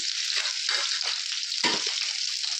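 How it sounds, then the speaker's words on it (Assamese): Sliced onions frying in hot oil for tomato chutney, a loud continuous crackling sizzle with small bursts as the pieces hit the oil, close up. "এয়া পিঁয়াজ অকণমান দিছোঁ"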